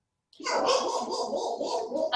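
Dogs bark continuously in the background during an online borough capital-improvement meeting, a steady wash of yaps that runs for about two seconds after a brief silence.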